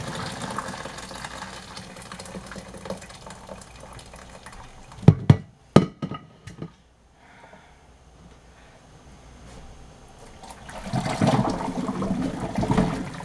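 Water pouring from a big cooking pot into a kitchen sink, a rushing splash at first, then sharp clanks of the pot, a quiet pause and a renewed gush of draining water toward the end.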